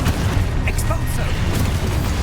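The Expulso spell blasts in Hogwarts Legacy, a dense, booming burst of low rumble and crackling debris with brief bright zaps, continuous and loud throughout.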